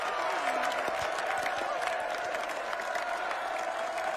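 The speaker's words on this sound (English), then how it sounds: "I'm sure they're clapping for Sir Loras" A crowd at a jousting tournament in Game of Thrones applauds and cheers, a steady dense roar of clapping with shouts, a whistle-like tone and occasional voices layered over it.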